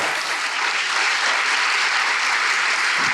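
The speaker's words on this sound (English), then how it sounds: "Please join me in applauding Rebecca Makkai" An audience at a 2019 book festival breaks into loud, dense, sustained applause to welcome author Rebecca Makkai, steady clapping throughout without spoken words.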